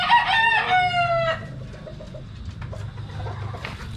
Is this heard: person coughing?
no